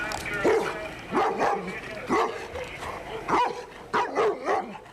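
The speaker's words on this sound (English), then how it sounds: "A police dog's been tracking him from the burgled house, and a German Shepherd's nose never lies." German Shepherd police dog tracking a burglary suspect, barking in repeated loud bursts of two or three yelps with brief gaps, close by, with faint whimpering between barks.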